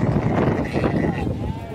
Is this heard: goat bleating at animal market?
yes